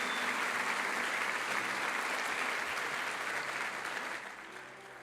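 A church congregation breaks into sustained, dense applause that fills the room loudly and evenly, then starts to fade near the end.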